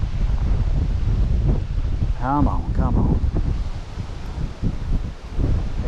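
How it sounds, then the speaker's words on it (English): Strong wind roars across a riverbank fishing spot, a loud constant rush with buffeting on the microphone, while someone briefly speaks over it. "Wind's picked up."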